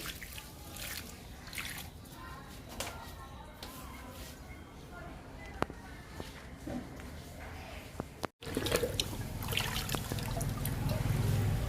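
Liquid fertilizer trickles and drips onto a Rhoeo plant in a pot, a close, soft, steady pouring sound that ends abruptly and then comes back in a fuller stream.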